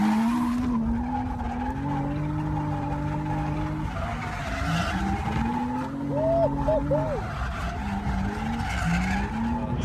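A Nissan 350Z drifting at a track drift day, tires squealing and skidding continuously with wavering pitch over a loud engine drone, close and sustained throughout.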